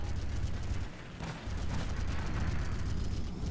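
Steady low rumble of sustained weapon fire as an interceptor shoots at a battleship in the AFF space combat game, dense and continuous with a brief dip partway through, no voices.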